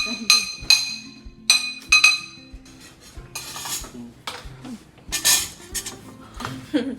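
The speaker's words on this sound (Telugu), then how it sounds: "ఇంకో చిన్న గిన్నె స్పూన్ తీసుకుని రెడీగా ఉందనమాట" Repeated bright clinks of a spoon against a small bowl while making semolina fryums, irregular taps and scrapes up close, with some brief voice sounds mixed in.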